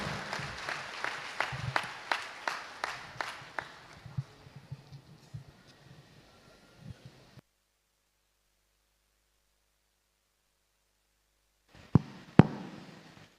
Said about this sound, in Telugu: గట్టిగా చప్పట్లు కొడుతూ వారిని మనం ఆహ్వానిద్దాం